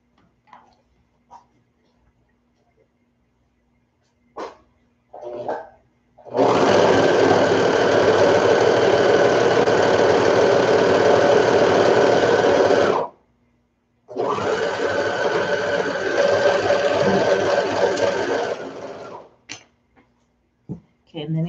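A serger sewing machine stitches fabric for a baby bonnet in two long steady whirring runs, close and loud, separated by a short pause, with faint handling clicks around them.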